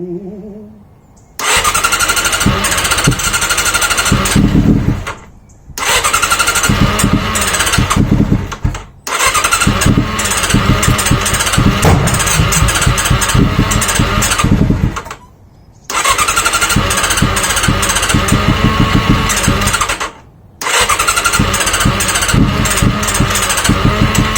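A motorcycle engine fires up and runs loud and close in long roaring bursts, cutting out abruptly several times before catching again, with no talk over it.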